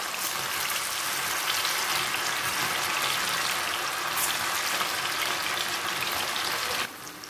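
Chicken pieces for chicken 65 frying in hot oil, a dense, loud, continuous crackling sizzle that drops off abruptly near the end.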